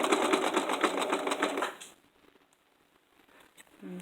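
A sewing machine stitches off the edge of fabric for a twirling dress, a close rapid rhythmic whirring for about two seconds before stopping, followed by faint handling sounds.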